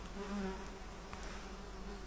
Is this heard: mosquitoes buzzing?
yes